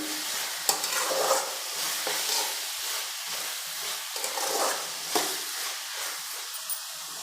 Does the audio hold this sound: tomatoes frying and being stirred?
yes